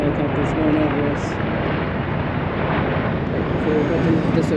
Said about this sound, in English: Some cool Army helicopters going over us.